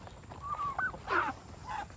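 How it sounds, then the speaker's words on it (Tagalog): Several honking, squawking calls from ducks, turkeys and geese overlap in short bursts, a few agitated cries close by over a low background. "Yan ang mga bibi, peking duck, pabo, gansa."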